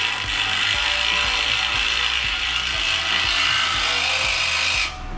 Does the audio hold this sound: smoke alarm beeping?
no